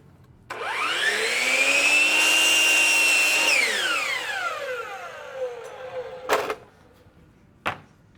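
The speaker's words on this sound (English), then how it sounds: "when we're going to cut the miter returns on the sill" A saw cuts miter returns on a cellular PVC window sill molding. The motor whines up loudly for about three seconds, then winds down, followed by two sharp knocks.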